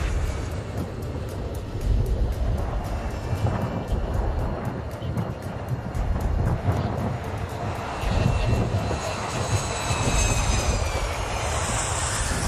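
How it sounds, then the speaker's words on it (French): An airliner going around just above the runway during a landing attempt in strong crosswind, its engines roaring steadily and continuously with heavy wind rumble at the microphone and no speech. "À quelques mètres du tarmac, les pilotes de ce vol interrompent l'atterrissage."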